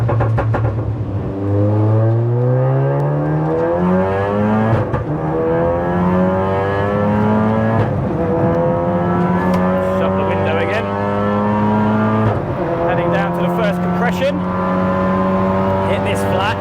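Tuned MK7 Golf R track car with a big turbo, over 500 bhp, accelerating hard on the Nurburgring. The engine climbs through repeated upshifts with a loud, close in-cabin drone, and a driver's voice talks over it.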